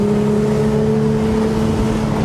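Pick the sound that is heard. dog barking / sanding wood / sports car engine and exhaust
sports car engine and exhaust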